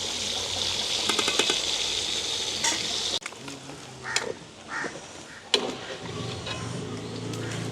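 Prawns deep-fry in oil during a home cooking session, a strong bubbling sizzle with stirring clatter that cuts out and gives way to quieter scraping, clinks and occasional splashes, with no talk.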